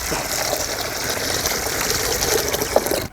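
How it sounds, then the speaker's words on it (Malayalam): Water gushes steadily into a cooking pot for boiling eggs, a loud continuous pour with a hollow splashing tone and no voices. "വെള്ളം ഒഴിച്ച് കൊടുക്കാം"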